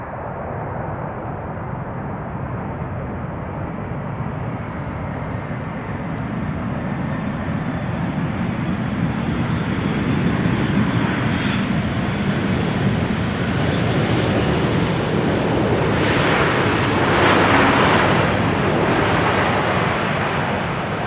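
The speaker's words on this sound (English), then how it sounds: "we will see it land in front of us as this 777 is doing at the moment" A Boeing 777 airliner lands at Amsterdam Schiphol on runway 18R, a broad steady roar of engines and rushing air that swells as it passes close by, with no voices.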